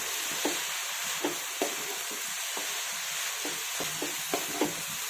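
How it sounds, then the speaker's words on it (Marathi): Spring onion greens and dal are sautéed in a pan over full heat, a soft steady sizzle broken by regular scraping strokes of a spatula. "आता सर्व आपण परतून घेऊयात."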